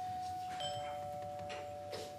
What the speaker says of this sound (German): Aha, es läutet.